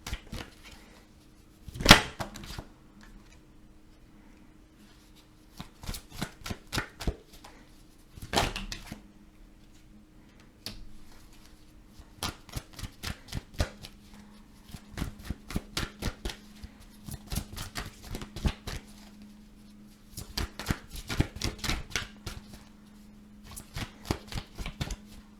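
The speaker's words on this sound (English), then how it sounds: "Let's pull some more cards here," Tarot cards being shuffled and pulled, heard as quick, crisp riffling bursts and flicks that repeat throughout, close-up over a quiet background hum.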